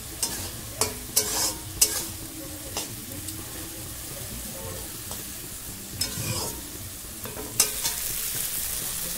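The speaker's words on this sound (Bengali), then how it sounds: "মশলাটা দিয়ে এবার একটু নাড়ানাড়ি করে দেব।" Maggi egg noodles with masala sizzle in a pan as a utensil stirs them, with several sharp scraping clinks spaced over a steady frying hiss.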